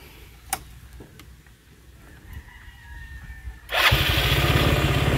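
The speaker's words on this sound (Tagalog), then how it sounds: "one click lang po siya at andar agad" A carbureted Yamaha Mio 110cc motorcycle, restored and in good condition, starts up abruptly after a rooster crows in the background, then settles into a loud, steady engine run close by.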